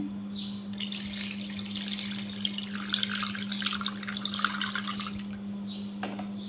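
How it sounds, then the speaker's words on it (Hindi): Water poured into a bowl of mutton liver, a steady broadband splashing stream lasting about five seconds at close range, with a constant electrical hum beneath and no talking. "कलेजी के अंदर हमने पानी डाल दिया"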